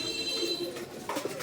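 Jacobin pigeons from Holland coo softly nearby, a short low murmuring call with faint background hum.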